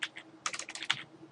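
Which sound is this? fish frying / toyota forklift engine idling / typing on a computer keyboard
typing on a computer keyboard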